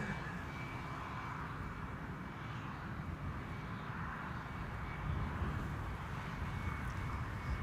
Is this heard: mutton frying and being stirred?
no